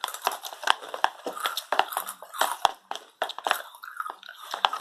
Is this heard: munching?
yes